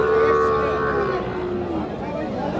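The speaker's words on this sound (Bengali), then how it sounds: "এই যে আমরা এই পাশে একটা শাহিওয়াল জাতের বকনা বাছুর দেখতেছি" A Sahiwal heifer calf at a cattle market gives a long, loud, steady moo close by, with market murmur faintly behind it.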